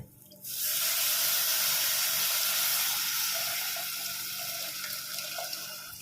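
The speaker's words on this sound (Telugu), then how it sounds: "ఇప్పుడు మనం ముందుగా కలిపి పెట్టుకున్నటువంటి టొమాటో చింతపండు ఈ రసం తీసుకొని పోసుకోవాలి" Tomato and tamarind juice is poured into a pot for fenugreek rasam, making a steady, close rushing splash that starts suddenly and runs on for several seconds.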